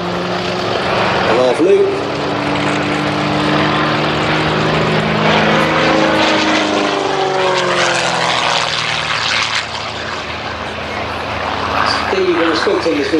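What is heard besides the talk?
Gamebird GB1 aerobatic plane with four-bladed propeller climbing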